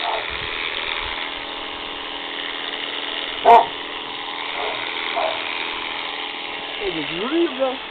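A single sharp bark from a shut-in dog rings out over a steady mechanical hum while a ram is being sheared, followed by a few fainter sounds in the background.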